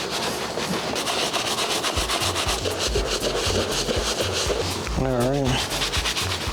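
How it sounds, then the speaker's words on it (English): Steady brush scrubbing on the fabric of Jordan 3 sneakers, a close rhythmic rasping that runs throughout, with someone speaking briefly partway through. "we're scrubbing behind the tongue"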